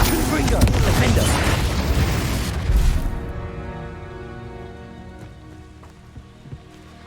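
A fiery Confringo blast spell in Hogwarts Legacy erupts as a loud, rumbling explosion with crackling debris, sustained for a few seconds before abruptly cutting off into a quieter lingering tail with faint clicks.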